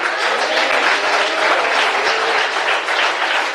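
Loud, sustained clapping from a church congregation at a sermon, a thick even wash of many hands close by, with no speech on top.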